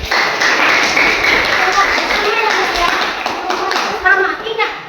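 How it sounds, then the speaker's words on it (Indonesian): A group claps together in a dense, brisk burst of applause, with children's voices mixed in over the patter of hands. "Yuk kita tepuk lagi."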